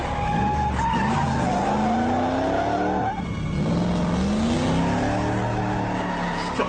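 A car speeds off with tyres skidding and squealing, a loud continuous screech with shifting pitch over a revving engine, close and sustained throughout.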